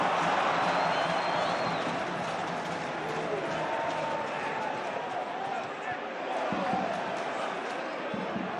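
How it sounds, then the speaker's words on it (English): Huddersfield football stadium crowd during a Championship match against Blackburn Rovers, a broad steady roar of thousands of fans in the background under continuous commentary. "There's the crowd here today."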